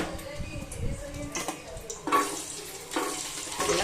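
Garlic sizzling in hot oil as a tempering, with intermittent stirring and bursts of frying crackle swelling around the middle and end, fairly close but not loud.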